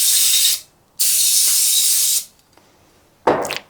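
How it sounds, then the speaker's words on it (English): Cooking spray hissing inside a crock pot: two long bursts of spray, close and fairly loud, then a short rustling sound at the end. "spray the inside of this crock pot"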